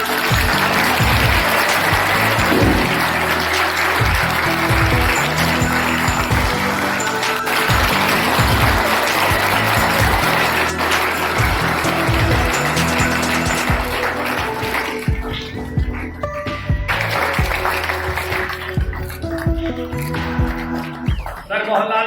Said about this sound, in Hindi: रविंद्र जी सर का तालियों का स्वागत करें सभी बच्चे